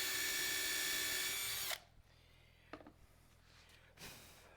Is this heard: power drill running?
yes